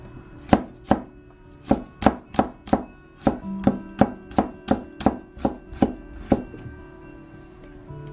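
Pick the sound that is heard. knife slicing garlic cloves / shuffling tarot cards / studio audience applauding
knife slicing garlic cloves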